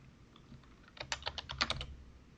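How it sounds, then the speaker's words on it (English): Typing on a Realforce Topre keyboard, a quick burst of about a dozen crisp, close keystrokes after a quiet start, then silence, with no talking. "This is a Real Force Topper keyboard."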